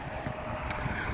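Wind gusts beside a roadside house during a roof inspection, a steady broadband rush buffeting the microphone, loud and continuous with no speech.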